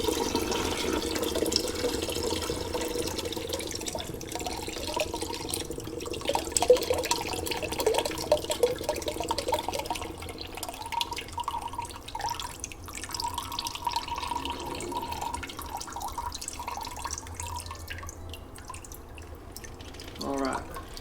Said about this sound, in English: I'm going to open the isolation valves again to let the vinegar drain from inside the water heater.